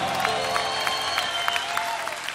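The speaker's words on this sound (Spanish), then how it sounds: "yo quiero pedir un fuerte aplauso para estos grandes músicos de acá de Colombia" Audience applause at a live salsa-style orchestra concert in a club in Medellín, Colombia: steady, dense clapping from a crowd fills the whole span at an even level, with a sustained musical tone lingering underneath.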